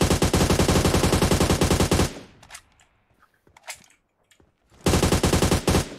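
Rapid automatic gunfire from the mobile shooter game PUBG Mobile rattles in a dense, loud burst, breaks off into a near-silent gap with a few scattered shots, then resumes in another sustained volley.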